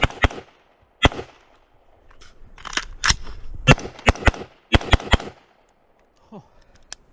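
Rifle fire from a BCA 20-inch retro M16 A4 style upper: loud, sharp single shots spaced irregularly, some in quick pairs and triples, with quiet gaps and faint handling noise between.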